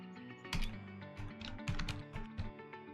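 Typing on a computer keyboard while entering a game name into an installer on a Linux CloudDeck, with a few quick bursts of close, clicky keystrokes alone and no talking.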